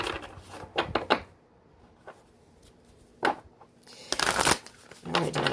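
An oracle card deck, the Sacred Destiny Oracle, is shuffled indoors in several quick riffling bursts separated by quiet pauses, with soft handling noises between them.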